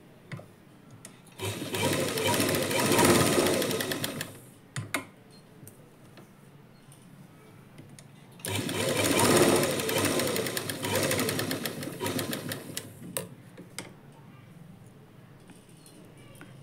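A sewing machine runs two bursts of slanted stitching on a lining blouse, each a few seconds of rapid rattling, with quiet handling noises between.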